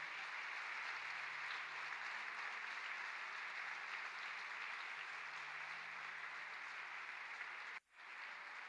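A church congregation applauds during a Spanish-language service, a long, uniform roar of clapping from many people that holds steady, cuts off abruptly near the end, then briefly resumes.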